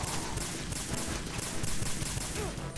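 Sustained rapid gunfire in the video game Metal Gear Solid 2, dense machine-gun-like bursts continuing loudly for the whole stretch.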